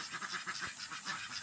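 Ducks honking in a garden, a quick run of nasal honks and quacks repeating rapidly, close and moderately loud, with no talking.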